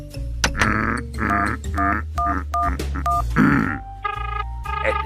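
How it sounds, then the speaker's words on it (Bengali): Within a cartoon, a phone number is punched in as a quick run of short electronic key tones in uneven rhythm, followed by a few longer steady beeps, loud and close with no talk. "এবার মিত্তির গিন্নিকে ফোনটা করতে হবে"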